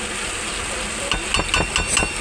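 Chillies chopped with a utensil inside a pan of vegetarian vegetable curry: five sharp, close taps in a quick, fairly even rhythm over a steady sizzling bubble of cooking, with no talking.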